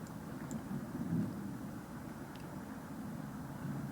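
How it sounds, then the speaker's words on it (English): Rain and low rumbling thunder in the Cooking Companions video game, a steady, muffled wash of rainfall with a faint roll of thunder, alone and fairly quiet. "Wish the rain would just stop."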